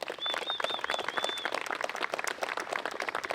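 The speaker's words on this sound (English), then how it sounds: "take a round of applause for all of them" Outdoor groundbreaking ceremony crowd gives a modest round of applause, scattered hand claps at moderate distance, fairly quiet and even, with a faint high whistle-like tone early on.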